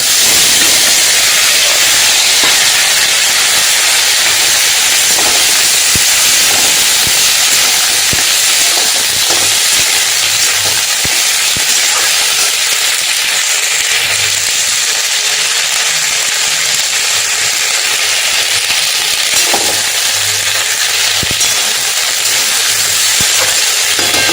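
Malabar spinach seeds dropped into a pan of fried onions give off a steady, loud sizzling hiss that runs unbroken throughout, with faint clinks of utensils and a low hum in the background.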